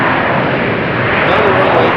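Airbus A350-1000 airliner rolling down a damp runway at Amsterdam Schiphol, a loud, dense continuous engine roar filling the whole moment, slightly swelling toward the end.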